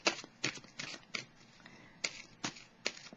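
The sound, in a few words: drawing a tarot card from the deck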